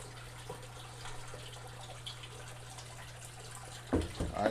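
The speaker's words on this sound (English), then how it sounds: "just tilt it. All the water comes out." Water drains out of a tilted aquarium tank in a steady, noisy stream, swelling into a louder splashing gush toward the end, with a low electrical hum underneath.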